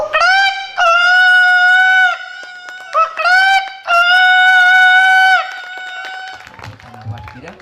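A human voice imitates a rooster crowing, giving two long, strained, drawn-out cock-a-doodle calls with short clipped notes between them, loud and close, before trailing off into quieter murmuring.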